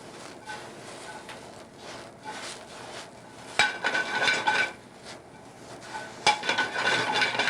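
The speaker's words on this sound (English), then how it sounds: "And we'll toast the chanterelle." Chanterelle mushrooms, small and left whole, tossed and stirred in a pan with lobster fond, giving soft scraping and clattering of utensil against metal, with a couple of sharper knocks.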